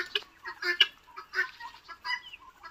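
Turkeys on a poultry farm in Assam give a series of quick, nasal clucks and gobbling calls in short bursts, close and clear against a quiet background.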